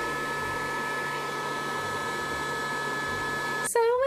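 A Casdon toy Dyson DC22 cylinder vacuum cleaner runs in suction mode, a steady whirring hiss held close for several seconds before a voice briefly begins speaking at the end.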